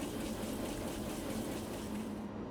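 Water running and draining in an EnviroLAV sink, a steady, faint gushing flow with no break.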